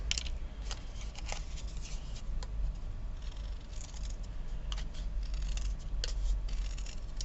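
Scissors cut through paper in a steady series of crisp snips and scrapes at close range, with irregular sharp clicks as the blades close. No voice is heard during the cutting.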